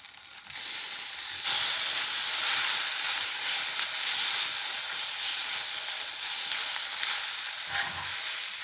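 Ground green peas and besan for matar kachori hiss loudly and steadily in a hot pan, a dense continuous sizzle that starts abruptly and holds throughout.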